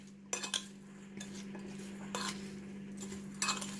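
Prawns with seasoning being stirred in a pan for a garlic and ginger stir fry, with a utensil scraping and clinking against the metal in several short bursts over a steady low hum.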